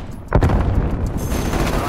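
A grenade detonates in the shooter game Call of Duty: Black Ops Cold War, a sudden loud, close blast followed by a dense, rumbling wash of gunfire and debris that continues to the end.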